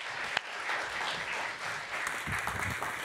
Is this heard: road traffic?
no